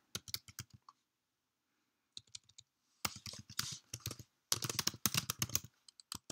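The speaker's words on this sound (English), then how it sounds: "You just type in the address here." Bursts of typing on a computer keyboard as an address is entered, rapid clustered key clicks in several runs separated by short pauses, close and clear with no talking.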